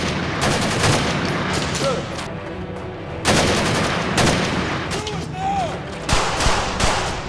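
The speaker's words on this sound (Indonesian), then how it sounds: "hendak menghampiri Norma, ternyata pasukan itu sudah datang dan baku tembak pun terjadi" Gunfire in an action film gunfight, sustained fusillades of rapid shots and bursts that come in loud overlapping volleys, with brief pauses between them, while a narrator talks over it.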